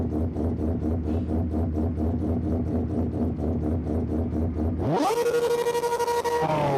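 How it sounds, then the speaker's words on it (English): A racing car engine from the Project Motor Racing video game revs hard and steadily, then rises sharply in a high-pitched climb through the gears. It is loud and close, with no talking. "Engine sound is amazing. That is beautiful."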